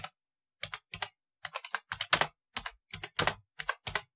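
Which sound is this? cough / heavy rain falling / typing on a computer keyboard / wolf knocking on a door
typing on a computer keyboard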